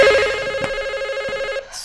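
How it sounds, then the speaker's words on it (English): A telephone rings in the horror film Smile, a loud, steady electronic trill that rings alone and then cuts off. "The phone's ringing."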